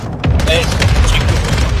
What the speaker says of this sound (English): Oh, that's enemy. Enemy mortar strike there.